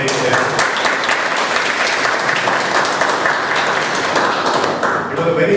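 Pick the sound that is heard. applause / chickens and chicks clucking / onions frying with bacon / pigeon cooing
applause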